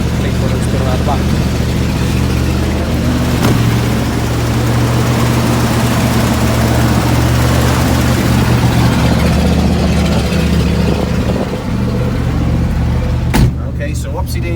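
Steady low engine rumble from a 1977 Dodge Power Wagon plow truck, running continuously and fairly loud throughout, with a brief clunk near the end.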